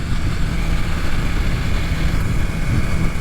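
A BMW inline-four 16-valve motorcycle engine idles close by, giving a steady, loud, low rumble that stays even throughout with no voices.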